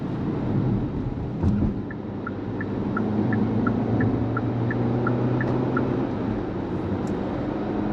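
A 2022 Hyundai Tucson engine in sport mode hums steadily from inside the cabin, a low continuous drone with light road noise and a faint regular ticking over it.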